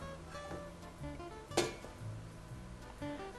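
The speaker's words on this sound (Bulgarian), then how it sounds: "В него изсипвам лукът." Onion is tipped into a dry pan on a stove burner turned to maximum, giving one sharp clattering scrape amid faint kitchen clinks and knocks.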